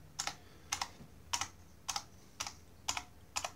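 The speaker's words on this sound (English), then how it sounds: "most of the keys sound fairly uniform." Keys on an IBM Model M keyboard are pressed one at a time in a steady rhythm, seven crisp, evenly spaced clacks, close and fairly quiet with no voices.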